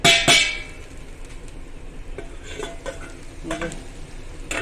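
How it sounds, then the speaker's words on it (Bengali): Potatoes frying in a home kitchen pan give a steady low sizzle with scattered stirring clatters, a louder burst of sizzling at the start and several sharp clinks later, no talking. "আর হচ্ছে আলু ভাজছে।"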